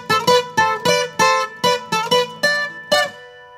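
A requinto guitar phrase played at a faster tempo: about ten brisk, evenly spaced plucked double-stops ring out close and loud, the last one left to sustain, with no voices.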